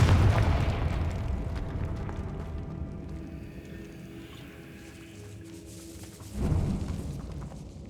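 A Confringo explosive spell is cast in a decaying catacomb in the wizarding game Hogwarts Legacy. A deep boom opens, a low rumble fades out, and a second thud comes near the end.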